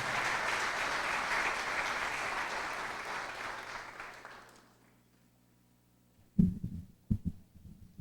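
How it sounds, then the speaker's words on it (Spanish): An audience at a university book presentation claps in steady sustained applause for about four seconds, then fades to near silence before a few thumps and bumps near the microphone. "Con el aplauso de todos"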